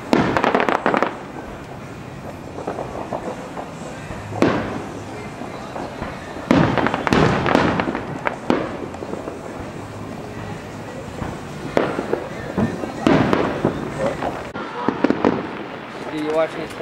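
Community fireworks show in Valley Stream, 2009, with sharp outdoor bursts popping and booming at irregular intervals, some close and loud, others distant, while people talk and react nearby.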